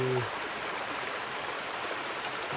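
A flowing stream of water runs along a green village path, a steady broadband rush heard close and continuous, with a brief voice at the very start.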